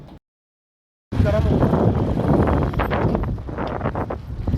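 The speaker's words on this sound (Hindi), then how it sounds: "ठंडी हवा चल रही है" Cold wind blowing across the microphone at an outdoor Eid gathering at home, a dense, steady roar that starts after a brief dropout and continues loud to the end.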